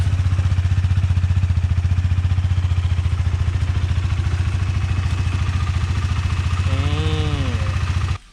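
A ten-year-old Honda CBR150i motorcycle idles close by with a steady, rapid single-cylinder pulse, holding an even note before cutting off abruptly at the end.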